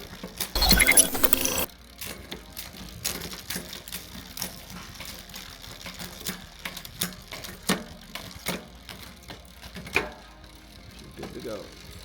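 Gears of a Velotric Breeze e-bike clicking as they are checked after assembly, a faint irregular ratcheting and ticking after a brief loud rustle, close by.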